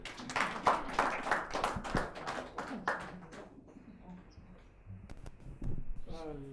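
At a Kavi Sammelan and Mushaira poetry gathering, an audience breaks into a close burst of hand claps. The applause rattles for a few seconds, then thins out into quiet room sound and a voice speaking.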